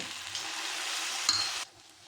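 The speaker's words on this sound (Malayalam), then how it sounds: "ചൂടായ ശേഷം കുറേശ്ശെ ഇതെടുത്ത് എണ്ണയ്ക്കകത്തിട്ട് മൂപ്പിക്കണം" Date and banana snack frying in hot oil, a steady close sizzle that holds evenly, then drops sharply to near quiet toward the end.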